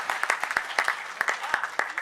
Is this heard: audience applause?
yes